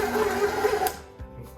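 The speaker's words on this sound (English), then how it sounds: "you just want to mix that until a nice smooth dough forms" An electric mixer works almond-apricot biscotti dough with a loud, steady motor whir that cuts off partway through, leaving a quieter tail.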